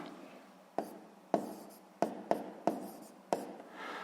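A pen writes a sixth-grade math exercise by hand, with six sharp taps of pen on paper followed by short scratchy strokes, close and quiet.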